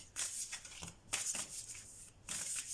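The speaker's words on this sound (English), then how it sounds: "I want to shuffle a bit better." A large, oversized deck of cards is shuffled close up in quick bursts, three or four rapid riffling flurries separated by brief pauses, soft and crisp with no talking.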